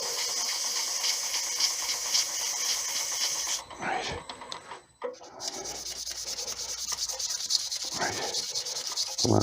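Sandpaper rubs against an English walnut fountain pen blank spinning on a lathe, making a steady close hissing rasp that briefly stops midway, then resumes.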